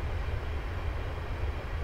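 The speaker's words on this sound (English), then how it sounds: "Here comes the American freight train." An American freight train rolls past in Train Simulator 2015, a steady low rumbling roar held throughout the short stretch, with no speech.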